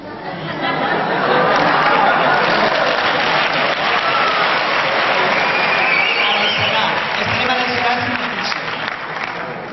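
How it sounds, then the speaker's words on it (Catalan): A large audience applauds loudly and continuously, with crowd chatter and a few voices mixed into the clapping. "us demanem un altre fort aplaudiment"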